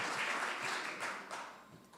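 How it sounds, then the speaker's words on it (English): Applause from an audience at a district attorney candidates forum, a brief, moderately loud wash of clapping that gradually fades. "We're going to give them all a round of applause."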